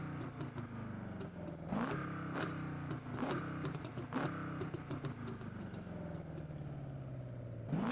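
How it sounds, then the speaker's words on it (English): A hot rod engine in Need for Speed 2015 revs in repeated sharp bursts, each climbing and falling in pitch over a rumbling idle between them, fairly close and on its own. "what I want to hear you first before we start the event is the sound of this hot rod"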